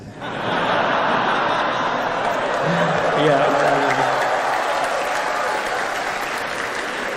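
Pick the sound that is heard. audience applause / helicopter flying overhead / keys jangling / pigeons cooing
audience applause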